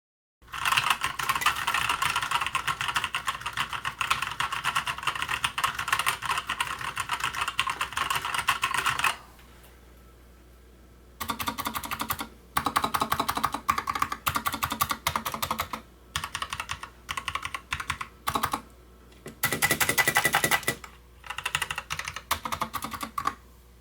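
Rapid clattering keystrokes on a WhiteFox mechanical keyboard alongside a Cherry MX Brown board, a long dense burst of close typing, then a pause and several shorter runs of clicky strokes.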